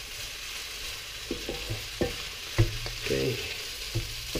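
Vermicelli noodles with prawns and beef being stir-fried in a pan, with steady sizzling and several distinct clattering stir strokes and tosses close by, plus one brief spoken word.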